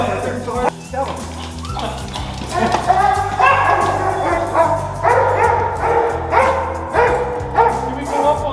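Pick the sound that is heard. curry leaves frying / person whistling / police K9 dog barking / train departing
police K9 dog barking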